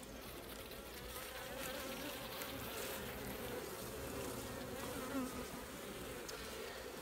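Honeybees swarm around an open beehive frame, producing a steady, dense buzzing drone that stays fairly faint and even throughout with no voices.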